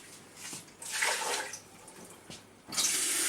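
Warm water runs from a tap in bursts, splashing into a basin, stopping and starting several times at close range.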